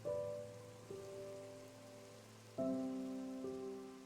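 Rain falls in Minecraft as a soft, even hiss, with calm sustained musical notes from the game's soundtrack playing over it.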